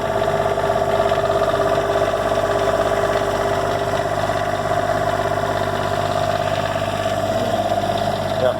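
The diesel engine of a salvaged, wrecked Monaco motorhome idles steadily and fairly loudly, close by, with a constant low rumble and a faint knocking vibration that lasts the whole time.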